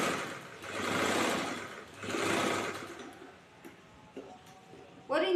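A sewing machine stitches a blouse in two steady whirring runs of about a second each, followed by quieter clicks and handling noises.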